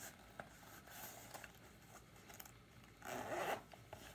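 A zipper on a Junienburg zip satchel that holds iPhone cases is pulled in one short, quick rasping run, close and fairly quiet, with soft rustling handling noise around it and no talking.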